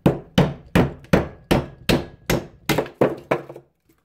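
A Condor knife with a Scandi grind is batoned through hard wood: nine sharp, evenly spaced knocks, each a crisp close thwack with a short ringing tail, then silence.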